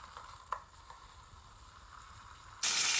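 Meat sizzles quietly in a pan, with soft crackles and a few small pops, before a sudden loud burst of hissing spitting fat takes over in the last moments.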